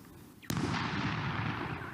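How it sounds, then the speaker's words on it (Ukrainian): A single sudden, heavy blast from sappers' controlled detonation of explosive ordnance in farm fields near Kryvyi Rih, Ukraine, erupts and then rolls on as a loud, sustained rumble and roar that slowly fades, with no voices. "сапери знищують вибухонебезпечні предмети на полях"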